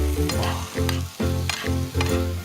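Dried radish strips stir-fried with soy sauce and oligosaccharide syrup crackle loudly in a hot pan, with rhythmic rapid tossing strokes and sharp scraping bursts, close and steady, and no talking.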